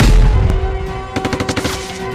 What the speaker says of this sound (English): Tap on the bomb to detonate surrounding tiles.